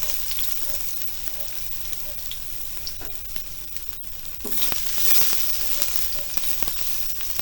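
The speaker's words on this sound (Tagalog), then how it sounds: "Unang igigisa natin guys itong ating luya." Ginger sautéing in hot vegetable oil in a pan, a close, steady sizzle and crackle that swells louder partway through, with occasional clicks from the pan.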